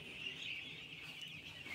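Chickens cluck softly in a crowded poultry shed while they wait to be vaccinated. The calls are faint and continuous under a steady background hum, with no clear separate calls.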